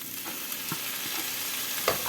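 Mixed vegetables and chopped tomatoes sizzle in a pan while being stirred, with a steady frying hiss broken by a few soft scrapes and one sharper knock near the end.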